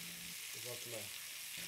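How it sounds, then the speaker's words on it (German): Veal shoulder and root vegetables sear together in a pan, giving a quiet, steady sizzle with a faint stirring scrape in the middle. "Nach kurzem gemeinsamen Anbraten aller Zutaten nehmen wir das Fleisch heraus, um das Gemüse zu tomatisieren."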